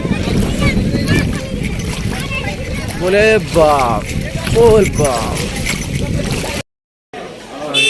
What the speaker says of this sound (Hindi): बढ़िया सा नदी जहाँ पे चल रहे हैं, अभी घुटने तक पानी है।